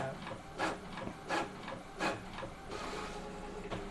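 Epson L11050/L18050 inkjet printer running in quiet mode, soft repeated carriage swishes about every 0.7 seconds over a low mechanical hum, close and moderate in level.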